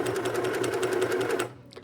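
A sewing machine stitching a sweatshirt runs in a fast, even rhythmic chatter close by, then stops abruptly near the end, followed by a faint clack.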